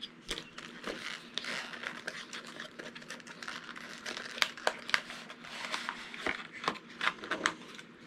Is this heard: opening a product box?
yes